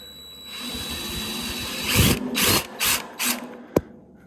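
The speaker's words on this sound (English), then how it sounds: "I just use a little step bit. Let's go right in the center. Right in the center of your spot weld." A small step drill bit bores a dimple into the center of a spot weld on a 1966 Bronco during restoration, heard as a close whirring drill with several short bursts of cutting and a sharp metallic click near the end.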